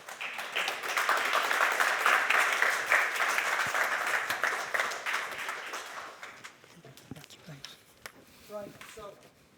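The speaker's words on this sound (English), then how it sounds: "Can we give them a round of applause, ladies and gentlemen?" A conference audience applauds speakers at an energy-transition session, a full burst of clapping that swells and then fades away, with voices talking as it dies out.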